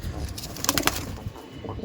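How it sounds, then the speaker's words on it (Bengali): A Madrasi pigeon gives a brief, soft cooing call nearby, heard alone. "খুবই সুন্দর একটা ম্যাড্রাসি পায়রা"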